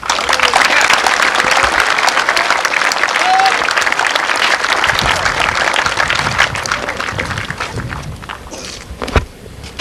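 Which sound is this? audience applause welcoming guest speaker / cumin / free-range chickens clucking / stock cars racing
audience applause welcoming guest speaker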